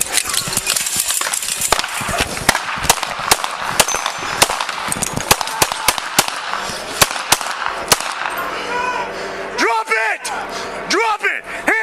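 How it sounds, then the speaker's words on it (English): A rapid series of sharp, loud gunshot cracks rings out repeatedly from a suspect in a police shooting, mixed with voices talking over them, before the bursts stop and speech continues. "The first 3 gunshots heard are fired by the suspect."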